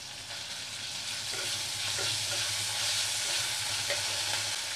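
Ginger paste fries with softened, salted tomato in a pan over a low flame, a steady, even sizzle that holds at moderate volume throughout the short stretch, with no speech.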